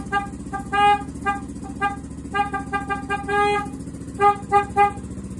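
Motorcycle horn under repair being tested in short bursts, a series of honks of varying length, some rapid and clustered, over a low idling motorcycle engine.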